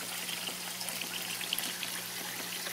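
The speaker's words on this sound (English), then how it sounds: "what we have is a constant pump on the far side there that's pumping the water up" An aquaponics setup with a constant pump lifting water, gravel beds and bell siphons, gives a steady soft trickle and pour of water with a low pump hum beneath, close and continuous.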